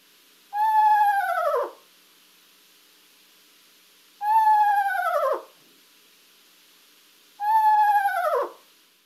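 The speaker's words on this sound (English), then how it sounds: "So that is the sound of a screech owl," A screech owl calls three times, each a loud, close, drawn-out descending whinny lasting about a second, separated by quiet pauses of roughly two seconds.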